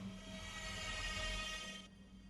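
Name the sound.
derailed train in Minecraft video game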